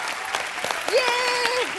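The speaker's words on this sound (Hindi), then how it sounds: "जोरदार तालियां यार बच्चों के लिए" Studio audience on a Hindi comedy talk show claps for a children's dance, scattered hand claps sounding briefly beneath a singing or speaking voice.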